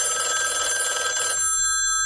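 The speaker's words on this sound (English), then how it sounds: "stop ringing me" An old telephone bell rings loudly and steadily, then cuts off abruptly partway through, leaving a faint tone.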